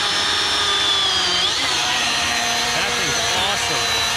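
A chainsaw cuts through wood stuck across an off-road trail during a side-by-side UTV ride. The engine whines loudly and steadily, shifting in pitch as the chain bites into the log, and voices are heard underneath.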